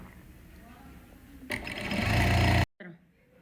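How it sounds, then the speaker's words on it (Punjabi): Sewing machine stitching lace along the inside edge of a garment sleeve, a loud steady motor whir of about a second near the end, following quiet talk and stopping abruptly. "ਆਪਾਂ ਲੈਸ ਦੇ ਬਿਲਕੁਲ ਇੱਥੇ ਨਾਲ ਨਾਲ ਸਲਾਈ ਲਗਾਣੀ ਆ"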